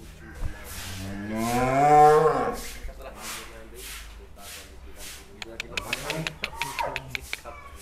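A huge cow mooing inside a cattle pen gives one long, loud, rising low moo early on, followed by fainter shuffling and knocks, with people talking nearby.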